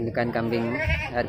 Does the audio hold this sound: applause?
no